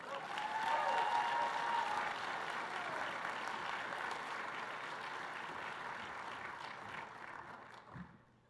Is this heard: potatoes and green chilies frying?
no